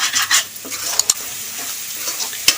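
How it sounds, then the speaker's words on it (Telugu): Spoons of garam masala, coriander powder and cumin powder being stirred in a hot pan for leafy-greens biryani, with close scraping and clinking of the spoon over a steady sizzle, no talking. "ఇప్పుడు ఇవి బాగా కలబెట్టుకున్నాం"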